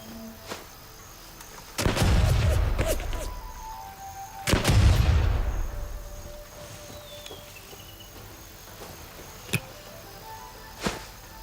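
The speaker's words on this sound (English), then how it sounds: "I'm gonna throw a nade into the main yard. Actually, I'm gonna throw 2." Two grenades explode in a video game, each a loud, deep boom a few seconds apart that rolls off into a long fading rumble, followed by a few faint sharp ticks.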